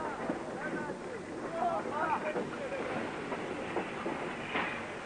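A train slides slowly into Sirkeci Station in Istanbul with a low rumble and faint clattering, while people talk nearby throughout.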